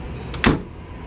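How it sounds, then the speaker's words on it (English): Door of a 1930 Ford Sedan Delivery closing: a light brief rattle followed by a single solid, close latch thunk, then quiet. "And again, listen to this door."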